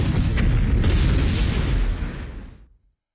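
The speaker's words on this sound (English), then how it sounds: "Airstrike." An airstrike explosion in the video game MechQuest booms loudly and rumbles on for a couple of seconds before cutting off abruptly into silence.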